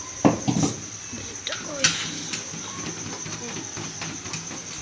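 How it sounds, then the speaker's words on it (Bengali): Cooked rice for mutton biryani is spooned back into a cooking pot, giving a few brief clinks and scrapes of utensil on metal against a quiet kitchen hiss. "আবারও হাঁড়ির মধ্যে ভাত দিয়ে দিচ্ছি।"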